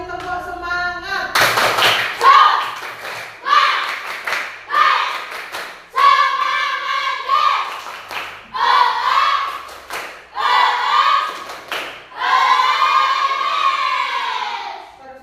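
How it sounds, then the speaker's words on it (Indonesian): A school class performs the rhythmic 'tepuk semangat' spirit cheer in a classroom, with bursts of patterned clapping alongside loud group chanting voices, repeated in several short phrases. "mari bersama-sama kita melaksanakan tepuk semangat ya. 2 kali tepuk semangat."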